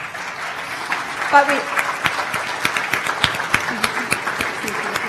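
Audience applause at a culinary event featuring Asian-inspired desserts, a steady mid-level clapping that carries under a man's speech throughout.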